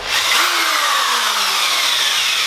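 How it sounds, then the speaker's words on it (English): An electric drill powered from solar batteries inside a tiny-house food truck trailer whirs loudly and steadily, close by, with a brief rise and fall in pitch early on and no talking. "I just plugged in my drill."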